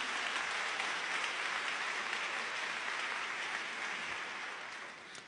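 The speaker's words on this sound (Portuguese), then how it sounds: "Então dá uma salva de palmas para Jesus." A congregation at a church service claps steadily, a dense wash of applause that stays even and moderately distant before tapering slightly at the end.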